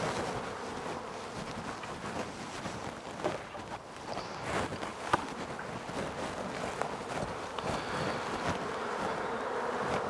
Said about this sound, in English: we'll just knock the bees out of the top box